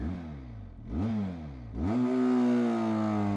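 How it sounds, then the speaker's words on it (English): A 2018 Benelli TRK 502X motorcycle accelerating from highway speed: the engine note climbs, drops briefly at a gear change, then rises again into a strong, steady high-revving drone, loud and close with no talking. "I can show you the acceleration from 100 kilometers per hour."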